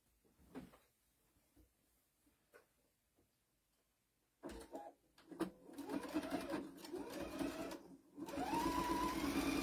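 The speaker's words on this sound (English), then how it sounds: "And then I just sew on both sides so it looks even." A sewing machine stitches in the ditch on a Halloween bag at a stitch length of 3 to 4, starting with quiet handling clicks and then running in steady loud bursts with short pauses.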